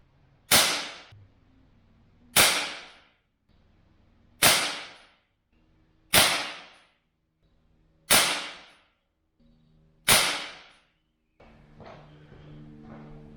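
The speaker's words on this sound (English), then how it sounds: "it's a BB gun, it's a BB pistol" Six sharp, loud shots from an ASG Dan Wesson 715 six-inch CO2 BB pistol, evenly spaced about two seconds apart, each a crisp crack with a quick decaying tail, followed by faint rustling.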